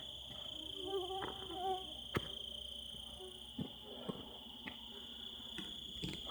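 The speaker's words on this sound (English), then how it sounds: "it's miserable out here with these bugs" Insects buzzing and chirping at night while camping in the Hoodoo Mountains, a steady high drone with occasional faint clicks and taps, fairly quiet and continuous.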